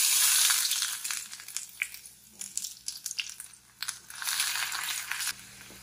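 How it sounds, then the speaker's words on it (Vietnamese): Minced shallots and garlic drop into hot oil in a home kitchen while cooking shrimp crab noodle soup, making a steady crackling sizzle that fades and swells unevenly and rises into bursts near the end. "Dầu đã nóng rồi nè, cho hành tỏi băm vô nha."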